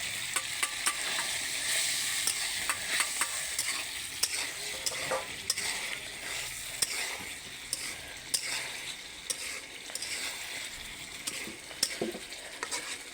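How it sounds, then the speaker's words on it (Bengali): Eggs frying and sizzling in a spiced tomato masala, stirred with a utensil that scrapes and taps the pan in an irregular rhythm over a steady, close hiss; no talking. "এই যে এখন আমি ডিমটা দিয়ে দিব। মশলা ভুনানো হয়ে এসেছে।"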